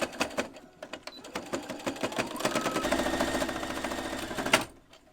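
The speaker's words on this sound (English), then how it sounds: "So now we can get to sewing. I think I'm just gonna start with the straps." A sewing machine runs steadily, stitching fabric straps for a quilted vest made from an upcycled tablecloth; rapid mechanical needle clatter, close and loud, starting in short bursts and then running continuously before stopping, with no talking.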